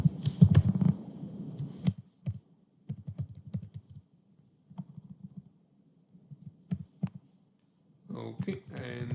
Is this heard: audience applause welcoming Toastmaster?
no